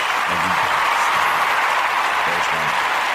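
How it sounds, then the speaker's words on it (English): An audience applauds the Ujima babies on the day of Ujima, a dense, steady wash of clapping that holds at an even level throughout, with faint voices underneath. "We want to give the Ujima babies a round of applause."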